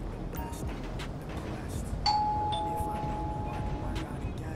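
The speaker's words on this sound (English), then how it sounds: "I guess we got to ring the bell." In the GTA 5 video game, a doorbell rings once with a clear electronic tone that holds steadily over a constant low background hum, and no voices are heard.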